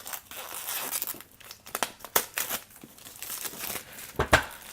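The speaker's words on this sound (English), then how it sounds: "Go ahead and take this plastic off." Thin plastic film peeled and crinkled off a new Xiaomi Mi 9 phone box, a close run of irregular rustles and crackles with sharp tearing bursts, no talking.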